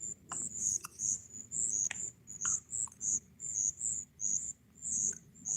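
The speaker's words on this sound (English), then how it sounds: "Frogs and crickets are nice." Crickets by a lock and dam at night chirp in a steady pulsing rhythm of high, shrill bursts about twice a second, with faint low ambience and a few soft clicks beneath.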